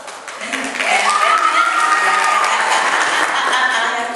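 A live audience applauds a two-person stage act. The clapping swells into a dense, sustained wash of claps and crowd noise with voices mixed in.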